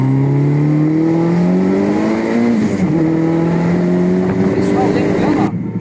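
A turbocharged VW Gol GTS accelerates hard on the road, engine note rising steadily through the gears with a brief dip at a shift, loud and close inside the car.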